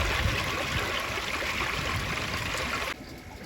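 Filtered water pours steadily back into a garden fish pond, a continuous close trickling and splashing that runs evenly before dropping suddenly quieter near the end.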